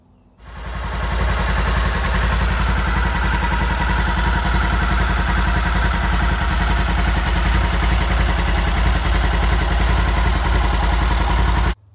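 A 2020 Polaris Ranger 1000 SOHC engine starts after an oil change and settles into a steady, loud, close idle with a rhythmic mechanical clatter that holds evenly to the end.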